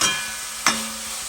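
Onions and lardons are stirred in a pot, cooking for rougail, with two short scraping strokes of a spoon against the pot over a soft background sizzle, close and brief.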